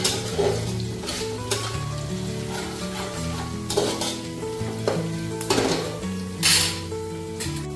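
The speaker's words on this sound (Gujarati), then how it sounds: "હવે આ બધું થોડીવાર આપણે તેલમાં સાતળવાનું છે આપણી દાળ થોડી ગોલ્ડન બ્રાઉન થાય ત્યાં સુધી આપણે સાતળી લઈશું" Steady sizzling of lentils frying in hot oil, broken by repeated scraping and clinks of a spoon stirring in the pan.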